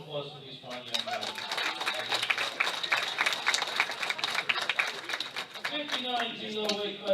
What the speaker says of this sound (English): One more round of applause for these fine young guys.